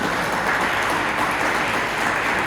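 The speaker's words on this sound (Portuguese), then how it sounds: "Se você querer dar uma salva de palmas ao Senhor." A church congregation claps in praise, a dense, steady wash of applause that fills the room from start to finish with no voices on top.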